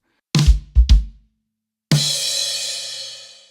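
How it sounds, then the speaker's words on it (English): A few drum hits including a snare and kick, then a crash cymbal struck and left ringing out, fading slowly. "he kind of ends that 4-bar phrase with playing what I think is a snare and a crash"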